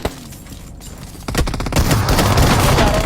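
Gunfire in a battle royale video game, where a quiet stretch breaks into loud, dense overlapping shots and booms that continue steadily to the end.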